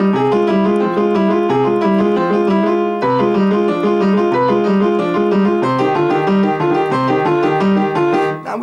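A piano plays a four-bar boogie woogie exercise with both hands together. Steady, bouncy chords and a rolling bass run without pause, loud and close, with no talking.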